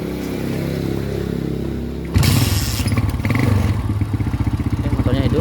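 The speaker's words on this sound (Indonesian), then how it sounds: "Perhatikan motornya mati, jadi harus diengkol dulu." A Yamaha Scorpio motorcycle with a weak battery is kick-started; after a quiet idle-free stretch the single-cylinder engine catches and runs loud and close with a steady, slightly uneven putter.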